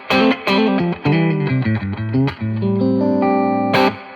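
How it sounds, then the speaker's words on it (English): Clean electric guitar through a subtle plate reverb, picking single notes and chords, with a gentle reverb tail lingering after each strike; played alone. "Another one I like to use a lot is this more subtle plate."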